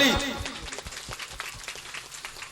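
An audience at a Bengali Kabigaan gathering claps for a performer, with a brief burst of scattered, uneven applause behind a voice.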